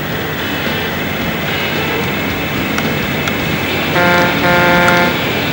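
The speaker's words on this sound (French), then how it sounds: "Je klaxonne, ça fait toujours bien, ça les impressionne les adversaires." A truck horn blares near the end, a loud sustained tonal honk from the Dreamcast game 18 Wheeler American Pro Trucker, over a constant rain-like hiss of road and engine noise.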